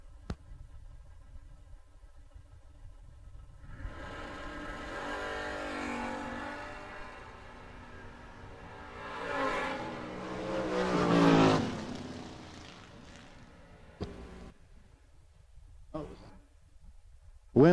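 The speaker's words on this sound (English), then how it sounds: "This little Mustang 2 is doing work up against Rich Payton. Down in a 612 in the Camaro." A Mustang II and a Camaro launch in a bracket drag race at Stone Jug, their engines swelling into a loud, rising roar that peaks near the end of the run and then drops away.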